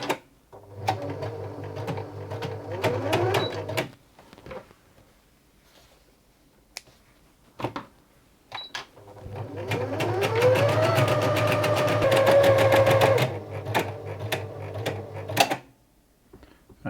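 A Brother PE-190D embroidery machine stitching a design, with two bursts of rapid, even mechanical clatter up close, separated by a quiet pause and a few small clicks.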